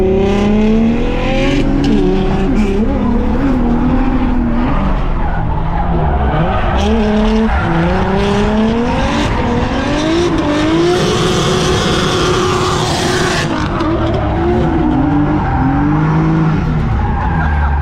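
A BMW E36 race car with a 4-cylinder gearbox and diff driven hard on a track, its engine loud and close inside the cabin, rising and falling through gears amid tire squeal, with occasional talk.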